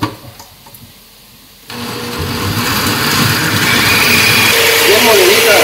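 A kitchen blender grinds chile for salsa. After a quiet moment with faint sounds, it starts abruptly and whirs loudly and close for several seconds, holding a steady pitch that shifts slightly near the end.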